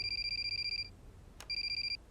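A telephone rings with an electronic ringtone in two bursts of steady, high trilling tones separated by a short gap, faint against a low background hum.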